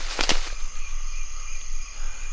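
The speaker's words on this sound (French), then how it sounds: "Je pense qu'il y a des grenouilles, il y a des grillons, il y a toute une faune nocturne là." Frogs croak in a couple of quick loud bursts at night in Vietnam, followed by a steady shrill drone of crickets and other night creatures all around.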